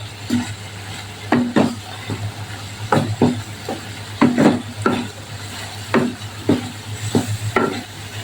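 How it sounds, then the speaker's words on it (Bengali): Frying in mustard oil, with a low steady sizzle underneath irregular clacks and scrapes of a stirring utensil against the pan, heard close up. "এখন আমি তেলের মধ্যে বেজে নিব সরিষার তেলে"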